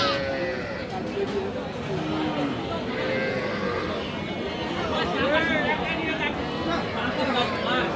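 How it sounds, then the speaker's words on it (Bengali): Sheep bleating at a busy rural livestock market in Raniganj, Dinajpur: several wavering bleats rise over a steady crowd murmur and nearby talking, with the animals fairly close. "এই ভাই একটা ভেড়া কিনে নিয়েছে"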